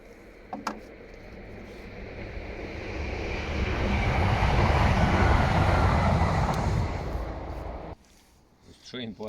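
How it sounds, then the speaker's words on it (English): A train passes at night in a quiet outdoor setting, its broad rumble swelling gradually, peaking midway and fading, with someone speaking briefly at the start and end. "There's train passing by."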